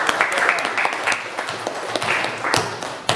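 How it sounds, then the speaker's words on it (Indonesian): Audience applause after a religious-education presentation, a steady wash of many hands clapping at moderate volume throughout, with a few louder bursts near the end. "Terima kasih, kasih aplaus."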